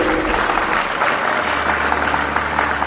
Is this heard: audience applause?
yes